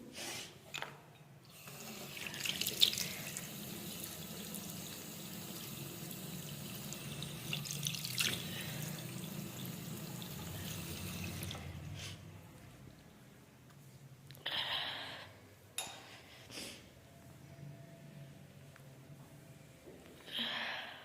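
Cold tap water runs and splashes into a sink for several seconds while a face is washed, then stops and starts again in short bursts, with splashy handling sounds between.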